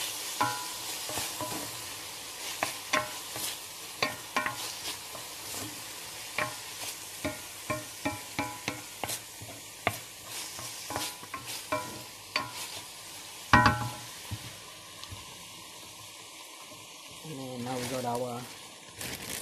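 Spicy chicken and vegetables stirred in a frying pan, a steady sizzle broken by repeated close scraping and clacking strokes of a utensil, with a louder burst of frying near the end; brief talk is faintly present.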